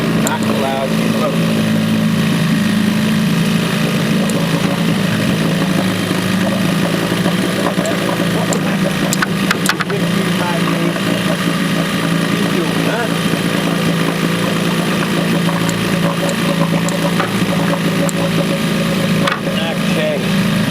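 A small Evinrude 4 hp Excel outboard boat motor drones steadily and loudly throughout, a constant low hum with faint talking beneath it.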